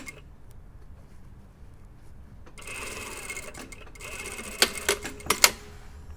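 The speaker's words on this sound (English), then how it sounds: "And now we're just going to stitch up the ends." Sewing machine stitching the ends of a lined jacket collar with half stand, a fast steady whirr starting partway through, quiet and close, with a few sharper clicks near the end.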